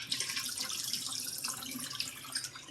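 Water draining from a jar of soaked sunflower seeds through a lid, a faint, steady trickle and splash with small irregular drips, close and quiet with no voices.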